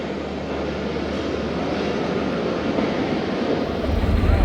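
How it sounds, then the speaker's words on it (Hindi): The 2 Down Khyber Mail train departs from platform 4, a loud, steady rumbling roar that swells slightly toward the end, with no talk. "प्लेटफार्म नंबर 4 से रवाना हो रही है 2 डाउन खैबर मेल"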